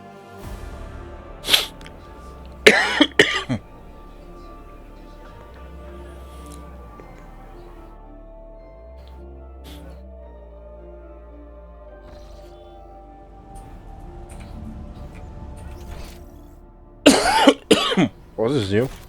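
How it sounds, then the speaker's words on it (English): A person coughs in short harsh bursts: a few near the start, then a longer stretch of quiet with a low background hum, and a loud cluster of repeated coughs near the end. "Sorry for the coughing."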